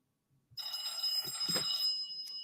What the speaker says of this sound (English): No, I can't answer the fucking phone now.